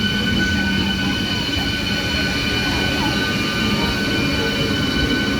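A local train on Eastern Railway runs steadily toward Bandel railway station, its wheels and carriages producing a continuous, loud rumble with faint high squealing throughout.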